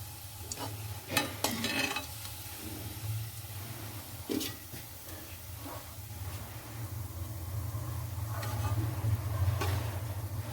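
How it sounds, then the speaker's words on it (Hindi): Dahi kofta balls deep-frying in oil over a slow flame, a soft, steady bubbling sizzle over a low hum, with occasional light clinks of a utensil. "हम इसे स्लो फ्लेम में फ्राई करेंगे ताकि ये बीच में से अच्छे तरह से फ्राई हो जाए"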